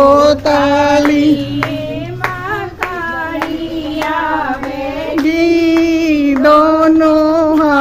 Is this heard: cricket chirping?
no